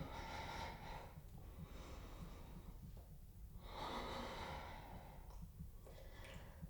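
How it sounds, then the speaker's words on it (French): Slow, calm breaths are drawn in and let out during a yoga bridge pose, soft and close, with a few audible inhales and exhales at an unhurried pace. "Respire calmement ici."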